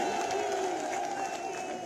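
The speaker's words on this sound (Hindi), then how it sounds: "खड़े होकर जोरदार तालियों से स्वागत, जोरदार तालियों से" A large outdoor rally crowd in Shamli cheers and applauds to welcome the chief minister, a dense, steady roar of clapping and voices filling the whole moment.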